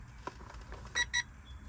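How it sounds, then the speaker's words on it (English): Two short electronic beeps in quick succession from a push-start receiver fitted to a Mercedes 500SEC C126, sounding clearly over a quiet background. "You hear the beep"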